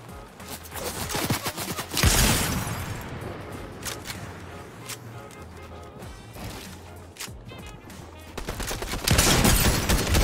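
Video game gunfire in a Fortnite-style shooter, with sharp loud shots and bursts scattered over ten seconds, the heaviest near the start and end, sitting under a steady low game rumble.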